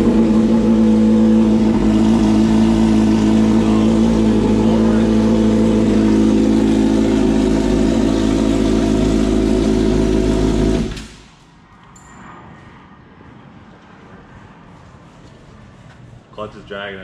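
A 1000cc street bike engine fitted in a golf cart roars loud and steady at high revs for about eleven seconds, then cuts off abruptly, leaving a quiet background with faint noises.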